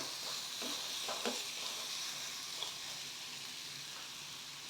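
Sliced onions sizzling gently in a pan while being stirred, a soft continuous frying hiss with occasional light scrapes of a spoon, no voices.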